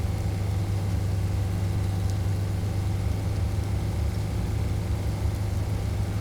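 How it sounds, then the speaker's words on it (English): A vehicle engine idles in ArmA 3 with a constant low drone and hum, steady and unbroken throughout. "I have to turn down that engine noise in the video."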